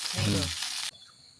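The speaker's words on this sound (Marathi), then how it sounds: "पहिलो मासो गेलो आपलं तव्यावर" Malvani fish frying on a hot iron tava, a steady broadband sizzle that cuts off abruptly partway through, leaving a faint hiss; a low voice murmurs under the first half.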